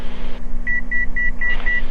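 An altitude alert in a Boeing cockpit chimes as a run of five short, evenly spaced electronic beeps over a constant low engine and cabin drone.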